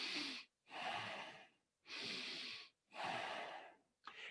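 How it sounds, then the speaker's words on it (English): A person demonstrates shallow chest breathing: four quick, forceful breaths in and out in a steady rhythm, close and breathy, with no speech. "So most people, if you really watch, are breathing kind of like this."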